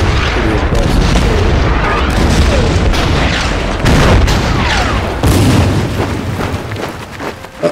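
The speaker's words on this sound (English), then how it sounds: "Artillery railgun is pretty impressive." Artillery railgun in the WW2 strategy game Order of Battle firing loud, deep booming blasts one after another, each a heavy explosive thump with a rumbling tail, layered densely over several seconds.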